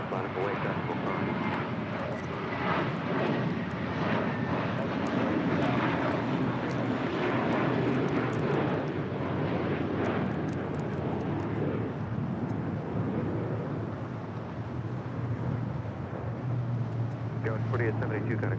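A jet airliner takes off from runway 24 left at Los Angeles International Airport, its engines a broad, steady roar heard from a distance, while air traffic radio chatter runs over it.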